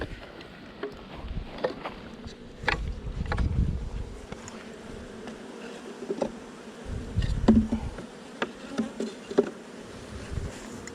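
Honeybees foraging around a hive split during a clover nectar flow, a faint, airy buzz of wings passing near and far, swelling and fading in low drones against quiet outdoor background.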